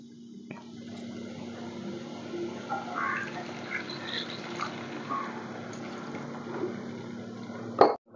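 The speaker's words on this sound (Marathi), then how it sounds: "आता त्यामध्ये मी थोडं पाणी घालून शेंगा आणि बटाटा शिजवून घेणार आहे" Water poured into a cooking pan holding drumsticks and potatoes, a steady low trickle and gurgle for several seconds, ending in a short sharp clink of a utensil.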